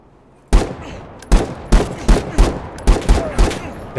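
Gunfire rings out in The Day Before, a survival shooter game: a loud single shot followed by a rapid irregular string of about eight sharp reports, close and punchy, with no talk over them.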